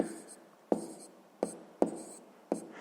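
Pen or marker on a writing surface during a sixth-grade math lesson as numbers are written, with four sharp taps as strokes begin and light scratching between them, close and fairly quiet.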